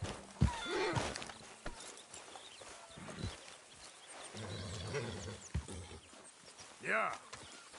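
Horse in Red Dead Redemption 2, clip-clop hooves heard under in-game talk and shouting, with scattered footfalls and ambient noise over several seconds.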